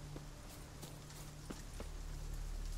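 A horse's hooves clop at a steady walking pace in The Witcher 3 video game, soft, regular thuds over a constant hiss of game ambience, with no voices.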